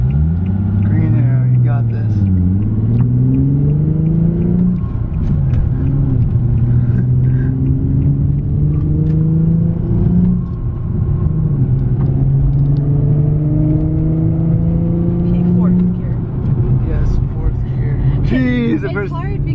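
An Infiniti G37 with a manual stick shift drives steadily, its engine hum and road rumble rising and falling gradually as gears and speed change, with people talking inside the car.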